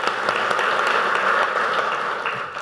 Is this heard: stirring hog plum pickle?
no